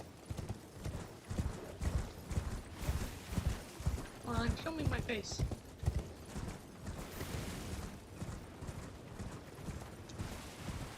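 Horse hooves clip-clop in a steady rhythm while riding through the Elden Ring video game, and someone talks over the hoofbeats.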